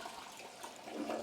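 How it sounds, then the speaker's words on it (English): A toilet flushes in a brief, close rush of swirling water that swells louder toward the end, heard alone without talk. "Stronger flush."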